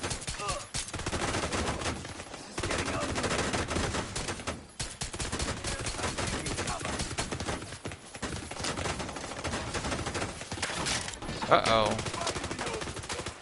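Gunfire in The Division 2 on PS5, dense bursts of shots running steadily through the whole stretch, loud and close, with a brief spoken remark over it.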